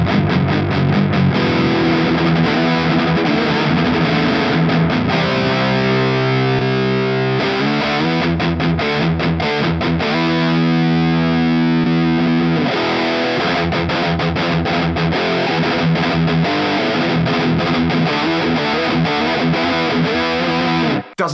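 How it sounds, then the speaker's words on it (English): Triple rectifier high-gain amp model on a Mooer GTRS guitar drives a heavily distorted electric guitar through sustained power chords and chugging rhythmic riffs, loud and continuous, with no talking. "So let's swap over to a triple rectifier model."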